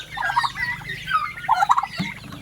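Pet turkeys gobble in a few separate rippling bursts with quieter gaps between them, moderately close, and no one speaks.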